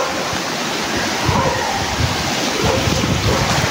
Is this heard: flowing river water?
yes